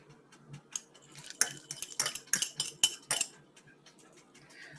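Noodles, bacon, peppers and onion being stirred into an egg mixture, a close run of clinks and scrapes of a utensil against a bowl, busiest in the middle stretch and quieter at both ends.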